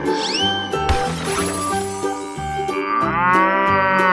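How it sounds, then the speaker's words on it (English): Cow mooing inside a bright cartoon animal animation, the low bellow blended with upbeat music and effect sounds that keep playing throughout at steady loudness. "Cow."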